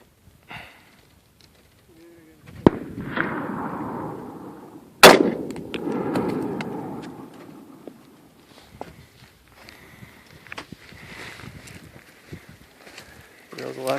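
Gunfire against an AR500 steel armor plate on a range, a few sharp cracks, one especially loud and close, then long decaying rumbles, with people talking between shots.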